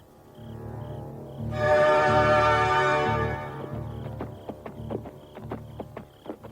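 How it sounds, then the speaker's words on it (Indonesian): A horse walks along a village road toward the listener, its hooves clip-clopping in a steady, evenly spaced rhythm that follows a loud swelling tone, with no talking. "Ada suara kuda berjalan ke arah kita."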